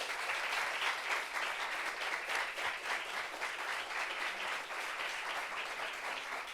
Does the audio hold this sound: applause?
yes